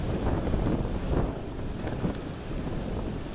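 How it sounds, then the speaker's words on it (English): Wind blowing outdoors around a boat being washed, a steady, close rumbling gust with buffeting on the microphone that keeps up throughout without a break. "that wind's gonna get going now"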